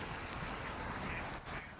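A continuous broadband wash of flowing water, steady and fairly close, with a slight windy roughness and no voices, recorded outdoors alongside birdsong.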